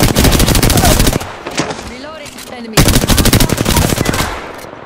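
Rapid automatic gunfire in a Wraith-focused battle royale video game, two loud sustained bursts separated by a brief pause, with a player talking between them.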